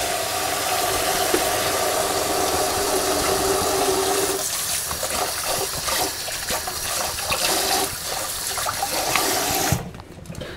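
Water runs steadily from a sink tap as hands are washed in a kitchen, a close, loud hiss that shifts to splashing partway through and cuts off near the end.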